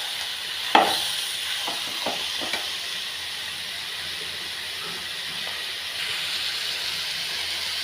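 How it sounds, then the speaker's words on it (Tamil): Chicken sautéing in a pan for a pepper chicken fry: a steady, close sizzle and hiss runs throughout, with a few sharp scraping knocks of a utensil near the start. "சிக்கனை சேர்த்துட்டு நல்லா வதக்குங்க"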